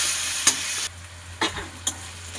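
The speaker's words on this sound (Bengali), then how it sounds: "আলুটা ভাজা হয়ে গেছে।" Potatoes and green chili frying in oil with salt and turmeric, a loud sizzle broken by three sharp scrapes of a spatula stirring the pan.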